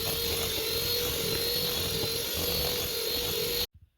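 An electric mixer whips homemade body butter in a bowl with a steady, loud whirring motor drone that holds constant for several seconds and then stops abruptly, followed by a couple of faint knocks.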